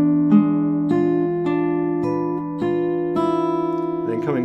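Acoustic guitar fingerpicked as a right-hand exercise, thumb and fingers alternating on the 4th, 3rd, 2nd and 1st strings; steady plucked notes ring over sustained bass tones, close and clear, with no talking.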